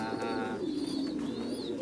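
Pigeons kept in a captive farm coop coo softly and continuously, with a few faint higher chirps mixed in, all fairly close with no talking.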